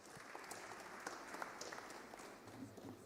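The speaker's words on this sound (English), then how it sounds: "A round of applause for Dennis." Audience applause at an executive education graduation ceremony, greeting the official who will call out certificate names; steady dense clapping from a crowd throughout, fairly faint and distant, with a few louder individual claps standing out.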